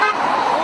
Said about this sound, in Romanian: claxonează și ei încă o dată